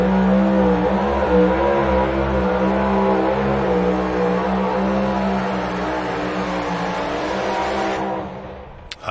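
A brand new pulling truck's engine roars at full throttle at an NTPA truck and tractor pull in Bowling Green, a loud sustained rising drone that fades near the end before a sharp pop.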